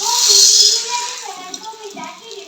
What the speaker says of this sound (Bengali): এখানে পাঁচ ফোড়ন রেখেছিলাম সেটা দিয়ে দিলাম আর ডাল দিয়ে দিচ্ছি